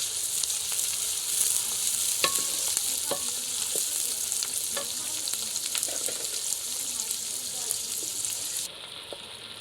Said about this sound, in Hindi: अब ये इसमें मिर्च और टमाटर डाल दिए।